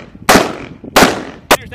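Three loud, sharp rifle shots ring out close by, unevenly spaced, during weapons proficiency practice by the 386th Expeditionary Security Forces Squadron, each crack followed by a brief echoing decay.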